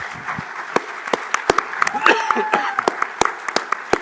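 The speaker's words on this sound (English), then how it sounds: "So big applause for them." Scattered, distinct claps from a conference audience honouring the organizers ring out one by one, with brief clusters, while a voice talks over them.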